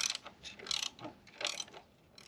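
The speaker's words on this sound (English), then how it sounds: "Now we are removing the fan mounting bolt on the other side, and that's going to be 8 millimeter as well." A ratchet backing out an 8 mm radiator fan mounting bolt on a 3.6 eTorque engine, close quick bursts of clicking in a few separate strokes.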